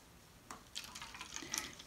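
Hot water poured into a cup for a kitchen science experiment, a soft, close, steady trickle that builds slightly over about a second, with no talking.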